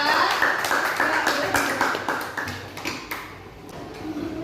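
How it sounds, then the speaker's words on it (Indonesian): A small group of students claps for a few seconds in a classroom, a brisk scatter of hand claps fading toward the end, with a voice speaking alongside. "Kita beri tepuk tangan untuk kelompok 2"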